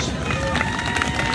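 A gymnasium crowd of Bacon County Red Raiders fans gives a dense, steady round of applause for wall of fame inductees, a continuous wash of clapping and cheering throughout.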